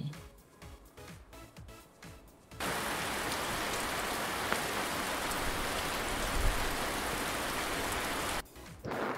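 Steady rain falls as a dense, even hiss of drops on a surface, loud and close for several seconds, breaking off abruptly near the end.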